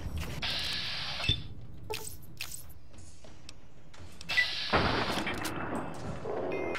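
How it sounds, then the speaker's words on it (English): Two separate gunshots fired at targets in Fallout New Vegas, each a sharp, punchy crack a few seconds apart over quiet game ambience and mechanical clicks. "Let's go for two headshots."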